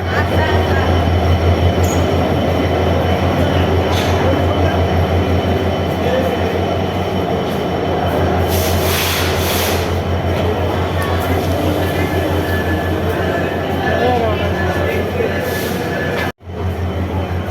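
Train pulling into Khulna railway station, a loud continuous rumble of rolling carriages with squealing wheels and brake hiss, steady throughout before a brief cut near the end.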